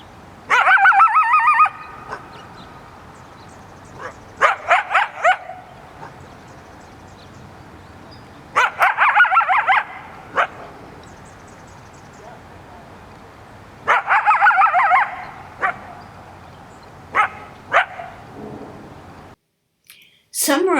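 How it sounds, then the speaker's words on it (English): Upset urban coyote giving raspy, harsh barks in a field recording, several loud bursts separated by quiet gaps, with a few shorter barks toward the end. "their sounds range from raspy growls, snarls, hisses, and barks, as in that last recording you heard"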